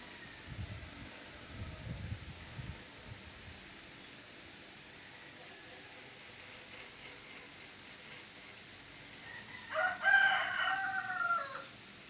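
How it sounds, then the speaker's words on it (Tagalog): A rooster crows toward the end, loud and fairly close, after a stretch of quiet room tone with a faint voice early on. "Anong manok talaga na to eh"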